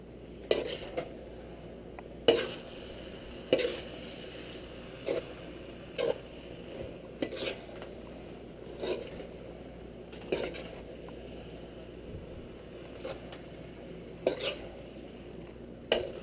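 A spatula scrapes and taps against a pan while pancit canton and bihon noodles are stirred, giving sharp, irregular metallic clinks every second or two over a quiet background hiss, close and fairly soft.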